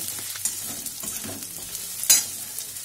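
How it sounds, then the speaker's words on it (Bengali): Paneer cubes stir-fried and tossed in a pan over a medium-high flame for chili paneer, giving a steady close sizzle with scraping stir strokes and one sharper clatter partway through. "এইভাবে ভালো করে নেড়ে চেড়ে নেবে"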